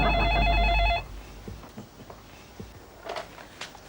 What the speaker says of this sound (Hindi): तुम्हारे लिए फोन है